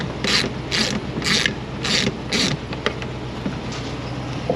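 Ratchet clicking while removing the window motor inside a 2018 Ram Quad Cab passenger door: five quick bursts of close, metallic ratcheting in an even rhythm, followed by a few lighter clicks and handling noises.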